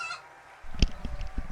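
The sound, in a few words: chicken noises played from a soundboard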